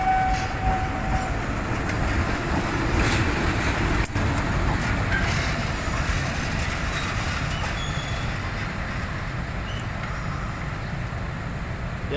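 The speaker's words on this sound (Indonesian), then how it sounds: "Ini lokomotif yang bakal membawa kereta wisatanya nih." Steady low rumble of a locomotive moving along rails at Pasar Senen station in Jakarta during tourist-train coupling, with faint wheel squeal and occasional clanks, continuous and fairly close.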